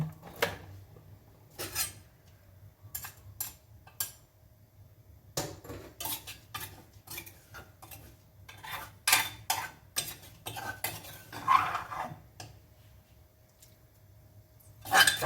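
Curry paste stir-fried in a little oil in a pan for a coconut-milk glass-noodle curry: repeated close metallic clinks and scrapes of a spatula against the pan, quiet, with only faint sizzle between strokes.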